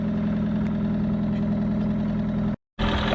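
The engine of a vintage Renault Goelette van runs after a jump start in snowy conditions. A close, steady idle with a throbbing low rumble continues throughout, broken by a brief dropout near the end.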